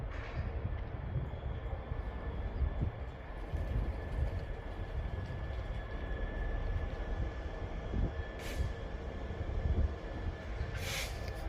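A freight train approaching slowly at Stowmarket Station, with a sustained low rumble and a steady tonal whine and occasional brief high squeals or hisses over the continuous rolling noise.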